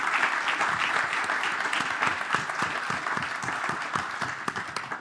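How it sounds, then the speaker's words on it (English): A conference audience at an EV summit applauding the event organizers, with steady, dense clapping throughout at an even level. "let's hear a round of applause for the organizers"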